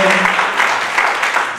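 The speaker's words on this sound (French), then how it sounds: "Applaudissez pour vous-même," Guests at a civil wedding ceremony clap together, a loud, close burst of applause under some voices, lasting under two seconds.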